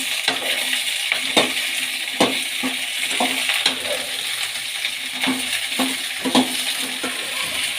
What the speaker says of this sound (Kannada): ಈಗ ಬೆಂಡೆಕಾಯಿನೇ ಉರ್ಕೊಳ್ಳೋಣ